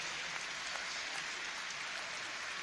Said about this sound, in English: Everybody happy to see him up, and a little round of applause.